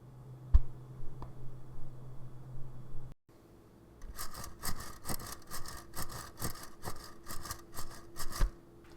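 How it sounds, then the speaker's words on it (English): Blown Alpine Type S subwoofer cone pushed by hand, giving rough rhythmic scratching and rubbing strokes, about a dozen close, repeated scrapes after a brief quiet start with a couple of faint taps. "A blown sub like this Alpine Type S will make a scratching sound whenever you push up and down"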